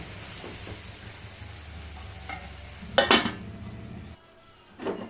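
Broad beans curry being stirred in a pan with a utensil, low sizzling under scraping and clinking strokes, one loud clatter midway, then a brief quiet before another scrape.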